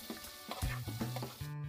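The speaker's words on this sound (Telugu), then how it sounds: "ఏ చేపనైనా ముందు ఎండు చేపని ఇలాగా వేపుకొని తీసుకోవాలండి" Dried fish pieces fry in oil for a brinjal dry fish curry, giving a soft continuous sizzle with a few light stirring scrapes and taps, quiet and close.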